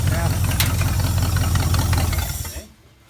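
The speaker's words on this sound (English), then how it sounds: "Listen to that motor, dude. Sounds like the Merc." A period-correct hot rod engine idles close by with a loud, steady low rumble for about two and a half seconds, then cuts off abruptly into near silence; a voice is heard over it.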